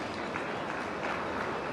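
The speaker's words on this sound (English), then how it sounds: "Let's have a big round of applause for all our speakers" Applause from a summit session audience for the session's speakers, a steady dense wash of clapping throughout, moderately distant and fairly quiet with no voices.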